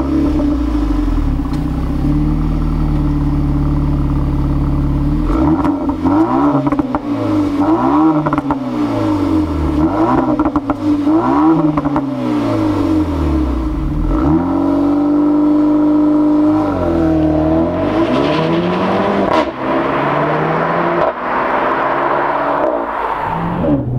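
A Renault Megane 4 RS engine idles loudly and then revs repeatedly in sharp rising and falling sweeps, close up and with no talk over it.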